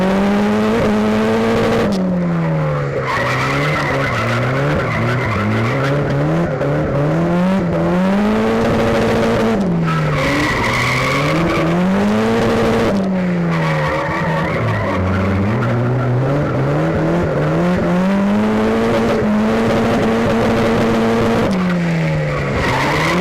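A drift car running on budget Accelera 651 Sport road tyres laps hard, its engine revving and falling in repeated surges while the tyres squeal almost continuously, loud and close throughout with no talk.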